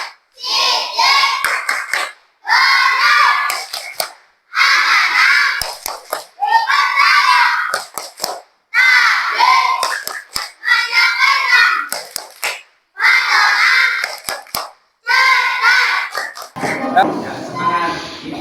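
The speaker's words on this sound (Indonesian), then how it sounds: "tepuk sifat wajib Rasul" Children in a classroom clap in rhythmic bursts while chanting together in short repeated phrases, with brief pauses between groups of claps and a noisier clatter at the end.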